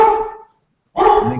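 Dog barking twice nearby, each bark sharp and loud, separated by a half-second pause of silence.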